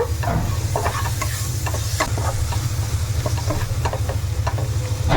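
Egg masala with salt being stirred in a hot pan, a spoon scraping and clicking in irregular strokes over a steady loud sizzle of frying.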